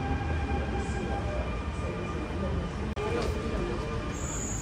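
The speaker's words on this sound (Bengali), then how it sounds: "মেট্রো চলে আসছে" A Dubai Metro train pulls into a station with a steady loud rumble and hum of wheels and motors close at hand, while a voice talks faintly over it.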